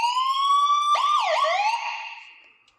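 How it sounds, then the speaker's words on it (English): A loud electronic boat siren wails steadily, then switches to a rapid yelping warble before winding down and fading out. "siren works"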